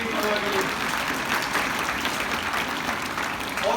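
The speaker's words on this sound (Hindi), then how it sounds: "जोरदार ताली बजाओ, बोलने की परवाह के लिए।" An audience at a St Mary Convent School event claps loudly and steadily throughout, dense applause from a crowd filling the hall.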